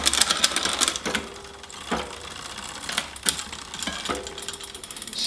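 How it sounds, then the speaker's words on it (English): A bicycle front derailleur shifter on a triple chainring clicks several times in short mechanical ratcheting bursts, separated by quieter gaps of light drivetrain noise. "Going to shift, trying to get a click out of the shifter."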